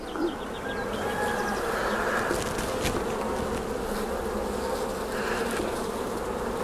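Honey bees buzz during the transfer of a nucleus hive into a full hive, a dense, steady hum of many wings close by, with a few louder passes of individual bees near the start and later on, and no talking.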